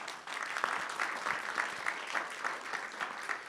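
Steady audience applause fills a college State of the College address at BMCC as the room claps for the math department, an even wash of many hands lasting a few seconds.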